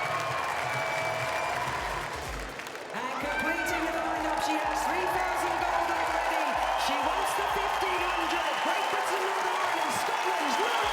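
A large stadium crowd roars and cheers through the closing stage of a European championship track race, loud and continuous, with a commentator talking over it.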